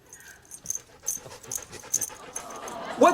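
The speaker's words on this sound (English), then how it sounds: "It's a dog." Dog from a local shelter, close panting and small shuffling sounds in an uneven rhythm, ending on a brief whimper-like squeak, with a faint voice in the background.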